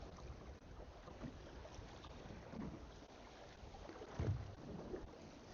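Wind buffets a Warrior 175 fishing boat drifting over a wreck at sea. The rushing noise is low and steady, with occasional soft thumps and knocks from the hull and gear.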